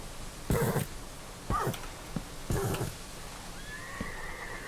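A horse in the video game Dark Times neighs in three separate bursts about a second apart, with fainter thuds and noises between them.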